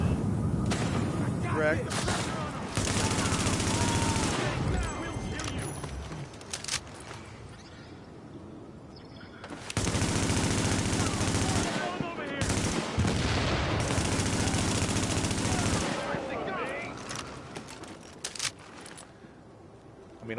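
Loud bursts of automatic gunfire from The Division, played on PS4 with a Hori TAC Pro controller, come in long sustained volleys separated by brief lulls, with someone talking over and between the shots.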